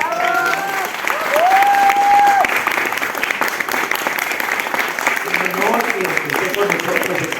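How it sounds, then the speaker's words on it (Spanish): Audience at a book presentation in a Mexico City bookstore breaks into steady, loud applause, with a whistle rising over the clapping and voices murmuring underneath. "Un fuerte aplauso."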